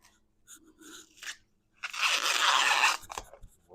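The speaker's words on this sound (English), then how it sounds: "We're going to peel our corn, husk our corn" Rustling, crackling tearing of dry corn husk in one long burst, preceded by a few lighter crinkles and followed by brief scraping; close and fairly loud.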